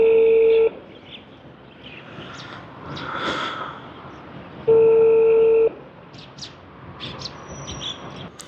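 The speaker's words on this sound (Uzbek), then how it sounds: "Zoir Mirzayevga qo'ng'iroq qilamiz" Telephone keypad tones from a call dialed to a regional government office in Uzbekistan: two steady electronic beeps, one at the start and a longer one midway, with quiet room noise and faint chirps between them.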